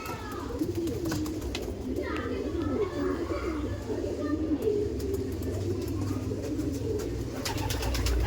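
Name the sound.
Madrasi pigeons cooing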